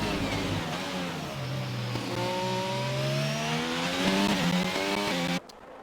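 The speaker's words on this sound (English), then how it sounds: "We have RZX Mix going on a lap now" The engine of an F1 video game car on a lap at the Portugal circuit climbs smoothly in pitch through upshifts, a continuous synthetic whine at moderate level that cuts off abruptly near the end.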